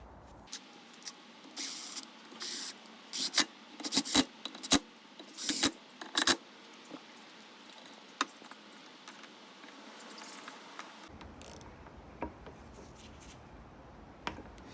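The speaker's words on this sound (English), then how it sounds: "I'm only using a small ratchet, and I'm not quite holding it from the back." A small ratchet tightens bolts on the vacuum pump of a 2006 BMW E87 118i, giving off a run of quick, sharp clicking bursts close by, then quieter scattered clicks.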